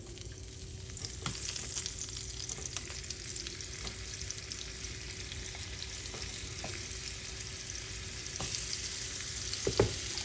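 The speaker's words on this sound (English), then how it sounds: "that's what you wanna hear, a nice sizzle" Seasoned halloumi cheese frying in olive oil in a preheated pan, giving a steady close sizzle with soft crackles and pops throughout, no voices.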